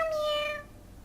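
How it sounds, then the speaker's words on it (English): A single clear, drawn-out cat meow from the video game Reigns: Her Majesty, bright and close, fading quickly into silence. "Kitty!"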